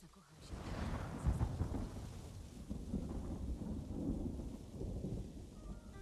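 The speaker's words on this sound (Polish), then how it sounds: "burza idzie i to taka ostra" Thunderstorm in Ghost of Tsushima: a deep rolling rumble of thunder swells early and keeps growling low and steady under a wash of rain for the whole stretch, with no clear voices.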